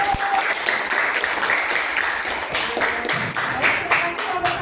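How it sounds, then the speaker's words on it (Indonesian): A class applauds a group after its presentation, a steady wash of many hands clapping that carries through the whole stretch at a moderate level, with faint talk underneath. "Beri tepuk tangan untuk kelompok 1."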